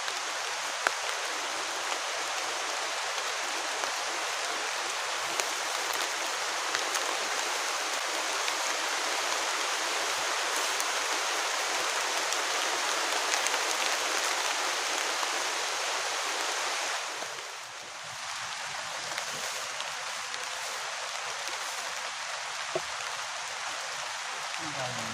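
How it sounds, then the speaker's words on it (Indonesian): Heavy rain pounds steadily on a camping tent during a thunderstorm with strong wind, a dense, loud, continuous hiss that briefly dips near the end before resuming. "Hujannya deras."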